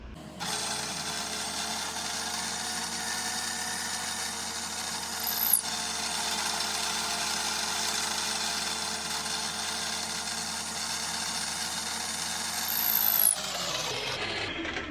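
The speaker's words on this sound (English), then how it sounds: "Now I just need to go and drill these holes." A power drill whirs continuously at a steady high pitch for several seconds while drilling holes in a Recording King RG31 guitar, with brief squeals partway through and near the end, then spins down.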